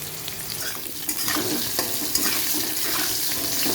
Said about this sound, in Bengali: কাঁকড়ালগুলো একটু নুন দিয়ে ভেজে নিচ্ছি